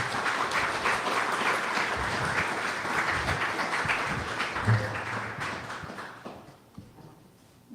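Audience applause at an AI for developers meetup, a steady dense wash of clapping that holds for most of the stretch, then thins and fades toward the end.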